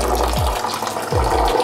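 Hot water poured over the grain mash while brewing beer, a loud continuous close gush of flowing liquid, overlaid by low sweeping hums that fall in pitch twice.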